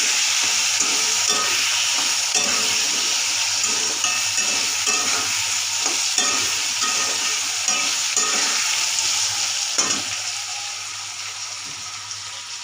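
Salted, turmeric-coated potatoes sizzle steadily in hot oil in a pan, while a spoon stirs and scrapes them in a regular, repeated rhythm close by.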